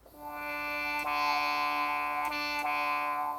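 The Harminator, a prototype original wind instrument, sounds a held note shifted down an octave, with a few short bright accents breaking in as the tone sustains alone.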